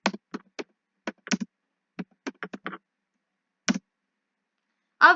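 Sharp, scattered keystrokes on a computer keyboard while an SQL ALTER command is typed, close and quiet with uneven gaps between taps and a final louder press.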